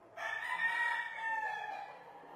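Rooster giving a single cock-a-doodle-doo crow, a short nearby call with a rising then drawn-out fall, heard on its own without talk.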